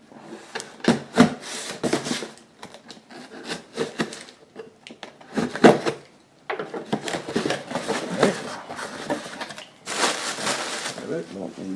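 Cardboard packaging of an Etekcity wireless remote outlet switch being opened, with scraping, rustling and tearing that run almost continuously at close range, broken by short pauses.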